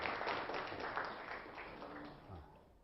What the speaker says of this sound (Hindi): ताली बजा दो, ताली बजा दो।